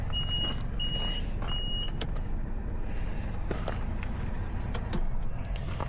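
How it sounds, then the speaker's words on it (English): A reverse beeper wired to a boat trailer setup sounds three evenly spaced high electronic beeps near the start, over a constant low vehicle rumble with scattered clicks afterward. "I have my reverse beeper for safety."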